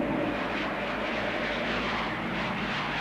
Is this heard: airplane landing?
yes